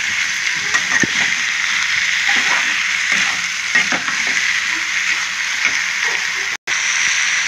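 Food frying in a pan with eggplant pieces, stirred now and then, gives a steady close sizzle with soft scraping strokes and one brief dropout near the end.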